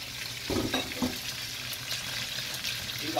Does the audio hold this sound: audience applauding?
no